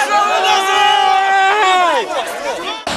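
Protesters outside a regional state administration building shouting slogans, loud massed voices chanting together in sustained, drawn-out cries close by, with the shouts fading near the end.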